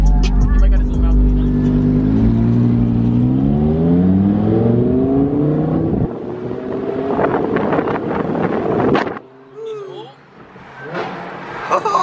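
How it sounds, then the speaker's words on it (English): Lamborghini sports car engine revving nearby on a street, a loud rising and falling rev that climbs in pitch over several seconds, then drops away to quieter passing traffic and wind buffeting as people talk. "Got this Lambo in front of us."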